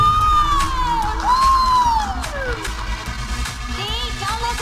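A dance competition audience cheers and whoops, with high children's shrieks and shouts rising over a steady crowd roar, loud and close throughout.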